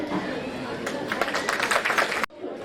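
Round of applause for mothers at a school Mother's Day celebration, a burst of many hands clapping with crowd noise, starting over a murmur and ending abruptly.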